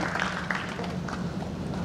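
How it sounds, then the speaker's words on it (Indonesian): An audience at a conference on digital mindset transformation applauds the Minister of Communication and Informatics, a dense, steady wash of clapping throughout that is moderately loud, with faint voices underneath. "Tepuk tangan buat Pak Menteri Kominfo kita"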